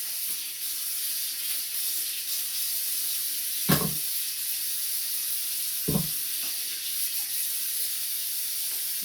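Tap water runs in a steady hissing stream over frozen chicken feet to thaw them, with two brief knocks partway through.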